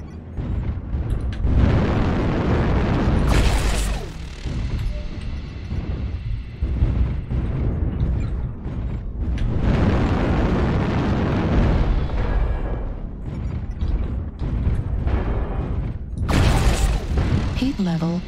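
Artillery strikes in a BattleTech mech combat video game: several heavy booming blasts rolling in over about eighteen seconds, loud and close, with game voice lines and mechanical noise mixed between them.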